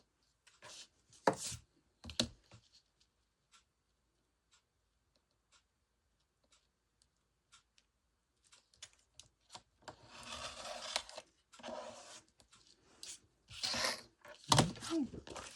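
Paper trimmed along a ruler while making a recipe book: sparse light ticks and taps early, then bursts of scraping, cutting strokes close by, uneven and irregular.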